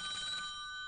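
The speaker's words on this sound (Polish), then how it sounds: "Jest telefon." Telephone ringing on a Polish game show, a bright electronic bell tone that is steady and clear, alone and fairly close for just under a second.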